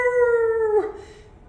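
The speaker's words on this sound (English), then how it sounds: "suddenly, in front of me, a great howl happened again" A single great dog-like howl rings out near Whitby Abbey, a clear sustained tone sliding slightly downward for most of a second before breaking off and fading into quiet.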